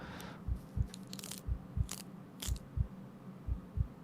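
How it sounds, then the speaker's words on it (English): Crisp, wet crunches of celery being chewed, standing in for bone-breaking effects in the dinosaur game The Paddock; sharp low-heavy snaps recur in a steady rhythm about every third of a second, close and isolated. "the bone sort of breaking noises that are there, that's just somebody chewing celery"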